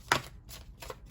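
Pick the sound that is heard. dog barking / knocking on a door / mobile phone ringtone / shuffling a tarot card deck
shuffling a tarot card deck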